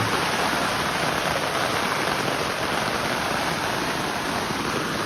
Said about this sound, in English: It is really raining now.